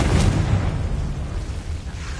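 A Confringo blasting spell in Hogwarts Legacy bursts with a loud, close explosive boom that decays into a rumbling roar over a couple of seconds.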